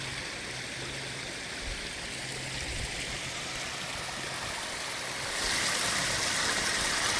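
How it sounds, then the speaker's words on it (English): A waterfall in a backyard aquascape pond grotto pours steadily, a continuous broadband rush of falling water that swells louder near the end. "I can see the water falling down from the bedroom windows"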